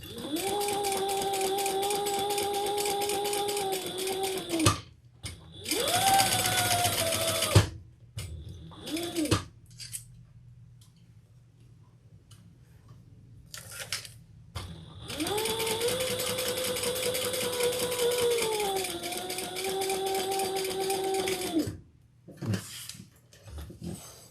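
A sewing machine stitches a handbag in two long motor-driven runs of steady whirring and clatter, separated by a quiet pause with a few short stops and restarts; no talking.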